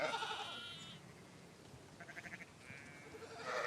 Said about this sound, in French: c'est une race, elle s'appelle les brebis brigasques